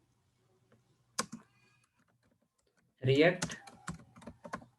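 Brief bursts of computer keyboard typing while coding a React app, a short burst early then denser clicking alongside a speaking voice.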